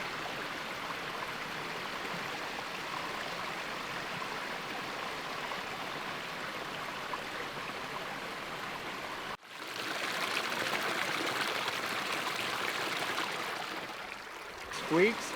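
Steady running water of a creek on California's Lost Coast rushes continuously, a broad even wash of flowing stream sound with a brief dip partway through, no voices.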